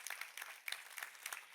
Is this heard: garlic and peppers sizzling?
no